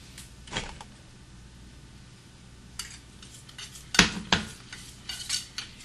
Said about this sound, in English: I'm going to add a little bit of this curacao to the arrowroot and make a slurry